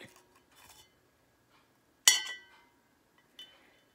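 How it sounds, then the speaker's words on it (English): A spoon clinks against the inside of a cup of green tea. A few light taps are followed by one sharp, bright ring and a softer clink near the end, close by and quiet, with no talk. "I just stir and stir it"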